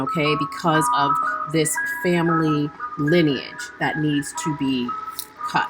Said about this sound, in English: We have like a nightly ice cream truck.